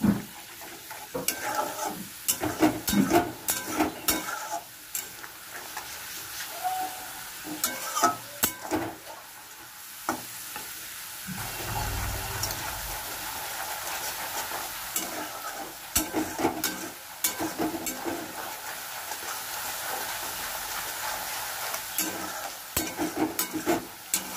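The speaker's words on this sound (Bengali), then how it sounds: "এই মশলাটা দিয়ে একটু কষাবো" Spice paste for doi potol is sautéed and stirred in a pan: a continuous close sizzle under repeated scraping and spatula strokes against the metal, with uneven bursts of louder activity throughout.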